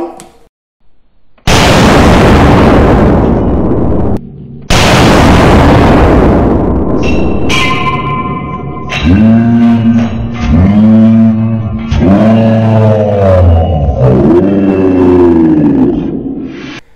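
A Danish M1 Garand rifle fires two loud, sharp shots a few seconds apart, each with a long booming decay, followed by warbling tonal sounds.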